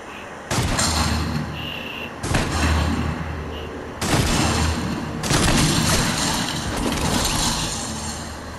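Harpoon gun shots in Fortnite land as four or five sharp, loud blasts spaced about a second or two apart, each with a heavy, lingering tail, and faint voices in between.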